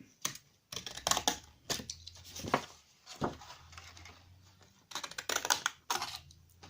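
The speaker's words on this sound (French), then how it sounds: "Comme ça, avec ma petite paire de ciseaux." Several short bursts of crisp snipping and paper rustling from a small pair of scissors cutting paper, close and quiet, coming in irregular clusters.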